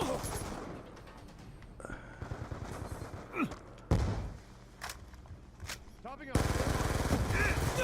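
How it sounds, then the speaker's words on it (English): Rapid automatic gunfire in Call of Duty Black Ops 2 on PS3 comes in dense bursts with thuds and impacts, and players talk under the shooting. "I'm hip firing rapid fire and I don't kill him."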